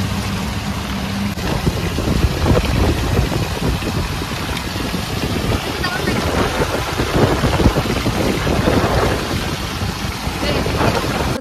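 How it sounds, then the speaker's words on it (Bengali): Heavy rain pours down steadily at a villa property in Raichak near Kolkata, a dense, continuous roar of rainfall that stays loud and unbroken throughout. "মারাত্মক বৃষ্টি হচ্ছে"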